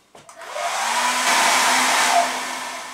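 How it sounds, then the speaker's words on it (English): A hair dryer whooshes on and blows steadily and loudly at close range for a few seconds, with no one speaking. "I'm going to try and do that with my my hairdryer."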